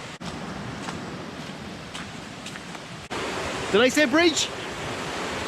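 A high river rushes past a crossing of two logs held together by twine on a Woodcock Hill hike, a steady broadband wash close to the microphone, with a voice speaking briefly over it near the end.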